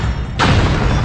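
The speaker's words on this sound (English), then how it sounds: "Now, Allen brings up his own big guns, 105mm and 155mm howitzers" A 105mm or 155mm howitzer fires with one abrupt, loud boom that breaks in partway through and rolls on in a broad, rumbling wash, with no voices.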